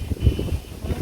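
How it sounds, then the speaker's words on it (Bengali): Strong wind buffets the microphone outdoors in a village, a loud low rumbling roar that swells in gusts throughout. "হ্যাঁ খুব বাতাস আসছে, দেখ মামি, দেখ দেখ কত বাতাস"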